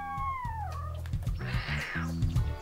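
Cats meow in the video game Dog's Life, a gliding high-pitched cry opening over steady low game music, followed by a harsher mid-clip yowl, all moderately close.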